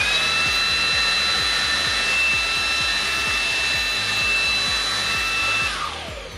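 A Xiaomi Dreame XR cordless vacuum cleaner runs at maximum power: a loud, steady, close motor whine with a high tonal hum that holds evenly, then begins winding down right at the end. No one speaks.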